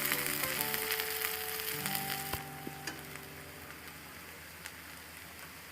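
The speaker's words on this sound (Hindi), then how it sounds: "प्याज को आप तेल में तब तक भूनेंगे जब तक वो ब्राउन हो जाता है।" Onion and cumin fry in hot oil with a loud, dense sizzle that fades a little over a few seconds, with the odd clink of stirring. No one speaks.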